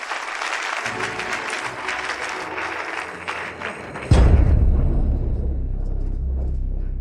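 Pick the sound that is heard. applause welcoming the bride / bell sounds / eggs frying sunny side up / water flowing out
applause welcoming the bride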